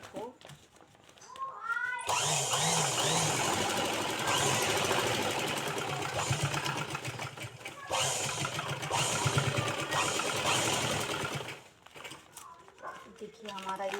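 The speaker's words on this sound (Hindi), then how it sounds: "अब इसमें दोहरी सिलाई डाल देंगे" Sewing machine running a double line of stitching on a handbag made from a plastic sack, a steady loud mechanical whir that lasts about ten seconds, with someone speaking before and after.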